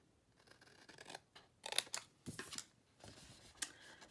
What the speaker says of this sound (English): Then we're going to cut off this square.